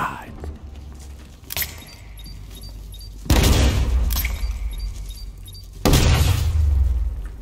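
Detonations in Batman: Arkham Knight: two loud, heavy booming blasts a few seconds apart, each followed by a rumbling tail, over quieter game ambience.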